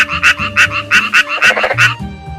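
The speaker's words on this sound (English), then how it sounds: "Frog." A frog croaks in a quick series of about eight rhythmic, raspy pulses, close and fairly loud, with no talking over it.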